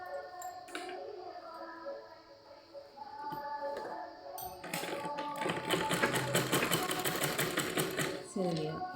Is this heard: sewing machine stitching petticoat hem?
yes